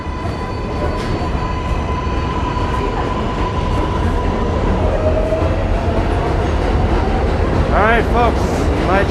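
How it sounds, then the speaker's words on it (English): A New York City subway train pulls into a station in Queens, its loud rumble and clatter filling the platform, with wheels squealing in a rising whine near the end. "my train is here"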